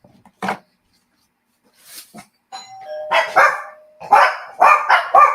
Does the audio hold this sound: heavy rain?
no